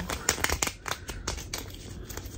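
A deck of tarot-style reading cards is shuffled by hand, giving a rapid series of crisp riffling flicks and soft slaps, close and alone without speech.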